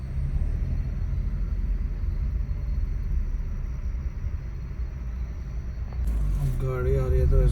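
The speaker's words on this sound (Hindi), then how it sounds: "गाड़ी आ रही है" A vehicle rumbles in on a road through tiger country near Jim Corbett, a steady low drone growing slightly louder, with a voice briefly speaking near the end.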